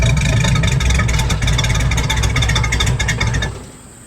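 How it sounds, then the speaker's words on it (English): A 1966 Ford Mustang coupe with dual exhaust idles loudly and close with a steady low throbbing rumble, then drops sharply quieter as it is shut off near the end. "We're going to need to turn the idle up just a little bit after it warms up."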